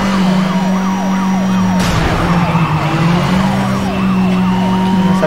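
Police siren in Need for Speed Most Wanted, a rapid wailing yelp cycling steadily over a constant engine drone, loud and close throughout, with a sharp crash-like burst midway.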